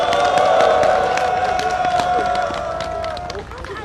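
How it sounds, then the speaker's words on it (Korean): A crowd at a labor rally cheers and shouts in a sustained roar, with a loud whistle-like tone held through much of it before the noise eases slightly toward the end. "함성 부탁드리겠습니다"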